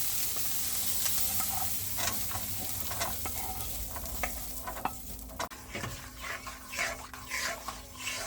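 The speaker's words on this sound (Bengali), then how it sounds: "বেশি ভাজা হবে না, জাস্ট এরকম হালকা ভেজে নিতে হবে" Sweet corn kernels frying lightly in a pan for white sauce pasta, a steady soft sizzle under repeated scraping and stirring strokes that grow busier toward the end, close and alone without talk.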